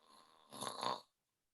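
A person imitates snoring with one brief, breathy, rasping inhale-snort lasting about half a second, close and fairly quiet, with no other sound.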